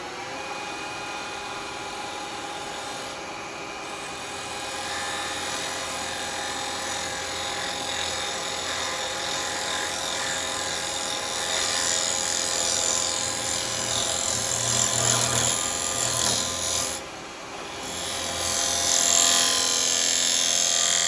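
A small gouge cuts a wooden ring box spinning on a lathe, a steady rough whirring scrape running continuously with slight swells and two brief dips, close and fairly loud, with no talk.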